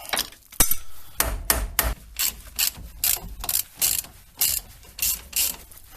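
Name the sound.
ratchet loosening 10mm ABS sensor bolt on a car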